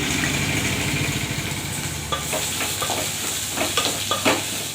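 Onions sauté in hot oil in a pan with a continuous close sizzle, joined by intermittent scraping and stirring sounds. There is no talking.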